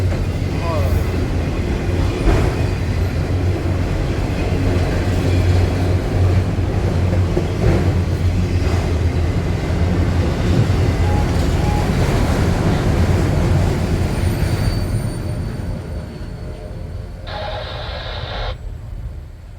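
A long westbound freight train without a DPU rumbles past in Lapeer, a loud, steady roar of rolling wagons that eases off near the end as the last cars go by.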